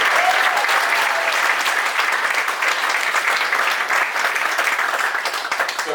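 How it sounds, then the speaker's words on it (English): Wedding guests give a sustained round of applause, a dense, steady wash of many hands clapping that stays loud throughout and tapers only slightly toward the end. "let's please give a round of applause to Randy and Tammy Browning for hosting such an amazing event"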